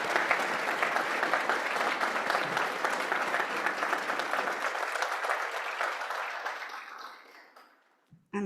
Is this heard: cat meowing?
no